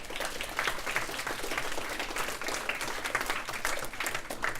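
Applause from an audience at an elementary school Battle of the Books event, dense, even clapping that carries on without a break.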